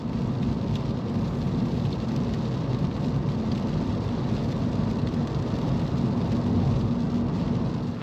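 Steady rain pours without a break on a wet afternoon on the Isle of Harris in the Hebrides, a dense, even hiss with a low rumble beneath and no voices.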